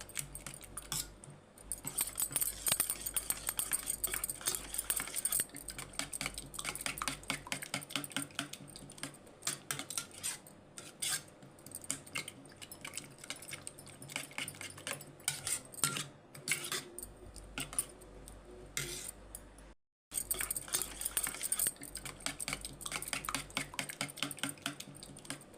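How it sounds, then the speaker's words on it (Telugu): Eggs and chopped onion being stirred together in a bowl for an onion omelette, a long run of rapid clicking and tapping of a utensil against the bowl, steady and close, with one short pause near the end. "తీసేసిన తర్వాత ఎగ్ దాంట్లో అయితే వేసుకుందాం. వేసుకొని కలుపుకోవాలి."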